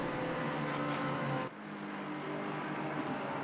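The 373 McLaren race car sweeps past at Misano during a six-hour endurance race, its engine a loud, steady roar that drops abruptly in pitch and level halfway through as it goes by amid other traffic.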